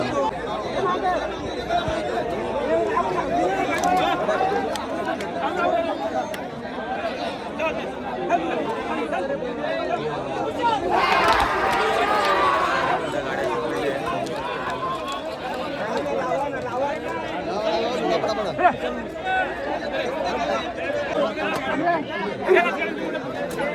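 Dense crowd babble at a bullock cart race in Kongav, Mumbai, many voices talking at once near and far, with a louder surge of noise partway through and occasional sharp bursts over the constant hubbub.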